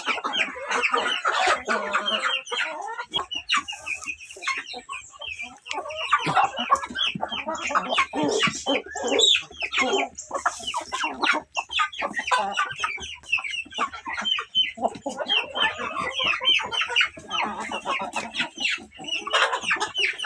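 A flock of free-range chickens clucks busily and continuously while being fed fermented leaves, with overlapping nearby calls and occasional louder squawks.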